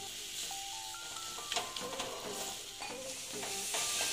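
Jackfruit and potato curry masala frying in oil in a pan, a close, continuous sizzle broken by the scrape and clatter of stirring, with several louder stirring bursts.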